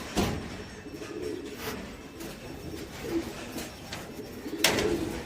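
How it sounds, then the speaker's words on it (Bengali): Pigeons in a loft in Ultadanga, Kolkata, a flock of eleven racing birds with painted underwings, give soft, low coos amid faint background noise and a few sharp knocks, moderately distant. "এই আমার 11খানা পায়রা উঠবে কালকে"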